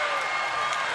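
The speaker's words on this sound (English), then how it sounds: "Sammy Timmins is getting the crowd to make as much noise as possible" Basketball crowd at a New Zealand national league game, Otago Nuggets against Franklin Bulls, roaring steadily during a free throw, a dense continuous wash of arena noise.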